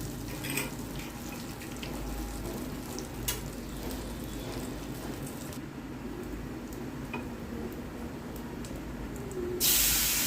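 Spice paste hitting hot tempering oil in a pan gives a steady, even sizzling hiss that stays moderately loud and close throughout, with no voices over it.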